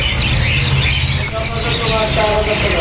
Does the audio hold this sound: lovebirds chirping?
yes